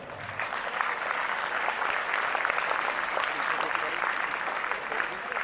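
An audience at a school Independence Day assembly breaks into sustained, dense applause that stays loud and even for several seconds, with a faint murmur of voices underneath.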